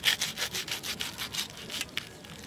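A knife saws through a crispy fried dahi sholay snack, giving a quick run of dry, rhythmic crunching and scraping strokes, close and fairly quiet, with no talk.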